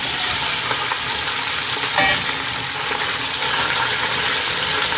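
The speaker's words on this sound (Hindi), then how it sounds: "अब गोश्त डालते हैं और इसको 3 मिनट के लिए फ्राई करते हैं" Meat frying in hot oil in a pan gives a loud, continuous sizzle with a steady crackle and no voices.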